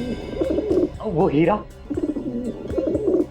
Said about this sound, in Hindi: घर को देख के ऐसे लग रहा है जैसे ये कबूतर तुम्हें पाल रहे हैं